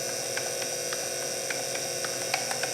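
A rebuilt windshield washer pump motor from a 1970-73 Camaro runs with a steady high whine, with faint regular ticks as it turns, close up and alone.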